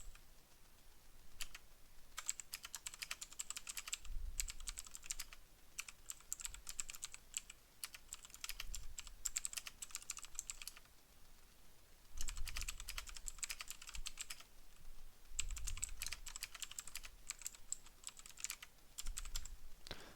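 Keys clatter on a Raspberry Pi 5 computer keyboard in steady bursts of typing, broken by short pauses, close and moderately loud with no voices.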